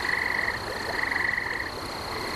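A dense chorus of frogs croaking together at night, a continuous overlapping rasp and trill that stays loud and steady throughout, with no voices.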